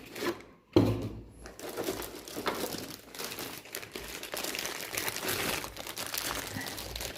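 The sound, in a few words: unboxing packaging of Redragon liquid cooler, crinkling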